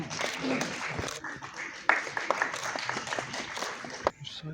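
An audience applauds at the inauguration of the Maharashtra-Jammu & Kashmir Friendship Chapter, with dense, fairly close clapping that runs throughout and ends abruptly, and a voice speaking over it.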